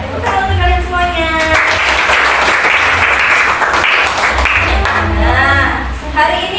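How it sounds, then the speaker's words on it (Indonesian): A classroom of students claps together in a sustained burst of applause lasting several seconds. It is loud and close. A teacher's voice is heard at the start and again at the end. "Tepuk tangan untuk kalian semuanya."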